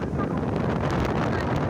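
Strong wind blows steadily past boats moored at a shore, a constant loud roar of gusts buffeting the microphone for the whole moment, with no clear talk.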